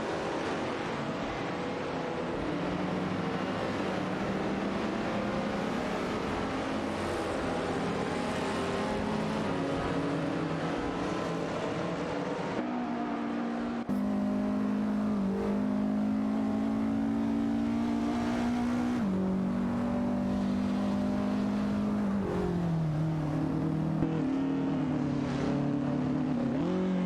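Cars in an AI racing simulation run laps on a track, producing a sustained engine drone whose pitch rises and falls as they shift and accelerate, loud and continuous with no voices.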